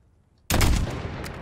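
A single sharp sniper rifle shot in the video game Call of Duty: Modern Warfare (2019) cracks loudly out of near silence, followed by a sustained rumbling echo that slowly decays.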